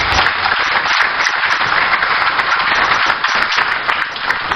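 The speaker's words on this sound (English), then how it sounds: "Shall we give him another round of applause?" Loud, steady audience applause fills a forum hall with the Ghana Agricultural Workers Union, a dense wash of many hands clapping close by, continuous throughout and no speech over it.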